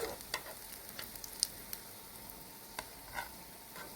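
Palm fruit fritters (taler bora) deep-fry in oil with a soft, even sizzle, faint and close, dotted with scattered light pops and ticks.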